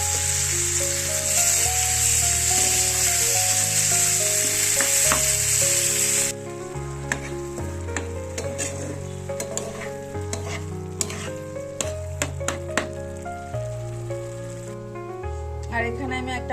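Onion paste and nut paste fry in a pan for egg masala, giving a loud, dense sizzle for about six seconds before it softens into a quieter crackle, with background music playing throughout.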